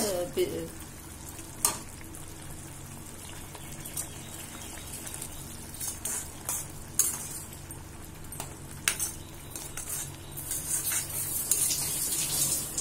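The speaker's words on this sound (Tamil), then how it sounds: "இப்போ பாருங்க நல்லா கொதிச்சிருச்சு." A pot of lentil curry bubbles and sizzles steadily at low volume, with occasional clinks of a utensil and soft stirring sounds.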